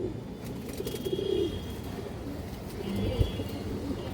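A female silver Beji pigeon gives soft, low coos at close range, a couple of murmured phrases spaced apart against a quiet room background, with a small knock partway through.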